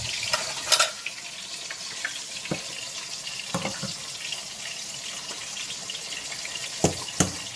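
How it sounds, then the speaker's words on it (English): Washed basmati rice tipped into a pot in a home kitchen gives a watery splash and pour, with several sharp knocks and clatters scattered over a steady wet hiss. "now I'm going to add my rice in"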